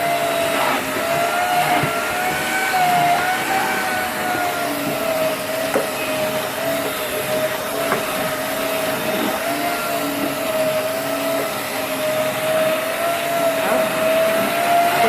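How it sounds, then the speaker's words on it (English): A Dyson Big Ball Animal cylinder vacuum cleaner runs indoors in a small front room, a loud continuous motor whine with a steady high tone and faint shifting rumbles as it moves, no speech over it. "I'm going to give it a once over now with this hoover with the other attachment"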